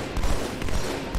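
Rapid gunfire from a weapon in the video game Halo 2, a dense, loud burst of overlapping shots lasting just over a second with no talk.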